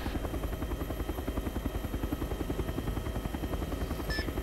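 A helicopter flies in the ArmA 3 video game during a Vietnam-era operation, its rotor beating in a fast, steady rhythmic thump with a constant engine drone and no voices.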